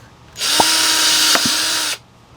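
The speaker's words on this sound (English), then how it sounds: "I'm gonna go ahead and get my drill and drill a hole." A power drill whirs loudly at a steady high pitch for about a second and a half, starting and stopping abruptly, with small clicks mixed in, as it drills a hole in a plant pot for Leca.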